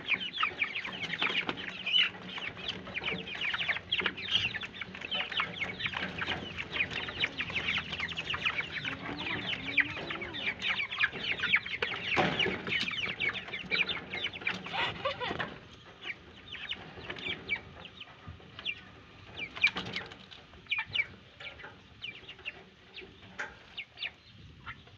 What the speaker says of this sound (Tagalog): Tara, panoorin niyo po ang pagpapakain ko ng manok.